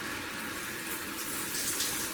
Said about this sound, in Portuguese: eu vou ter que tomar um banho para ver como é que esse chuveiro ficou